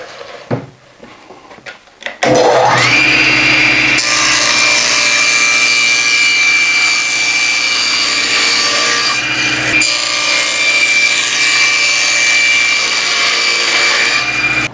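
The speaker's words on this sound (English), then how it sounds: "now I'll cut a 1/4 inch off of the top and bottom of the center divider" A saw cuts a quarter inch off the top and bottom of a wooden center divider for a roll-around tool cart. After a couple of quiet seconds the cut starts abruptly and stays loud, steady and droning close by.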